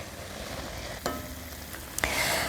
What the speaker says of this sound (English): And now it's time to add the vodka in. We're going to wait until the vodka is reduced by half